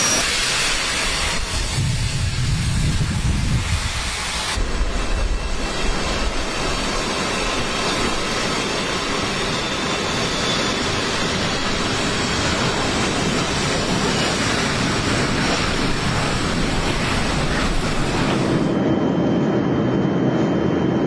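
A chartered jet aircraft at an airport produces a loud, continuous close-range whine and broadband roar. The noise holds steady for about twenty seconds before its high hiss drops away near the end.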